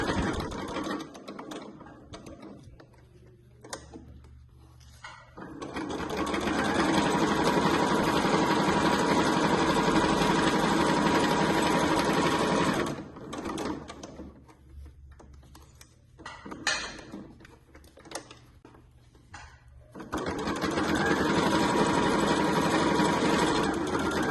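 Sewing machine stitching around the edge of a handmade clutch bag in long steady runs, a close mechanical whir with a faint ticking rhythm, broken by short pauses and quieter stretches between passes.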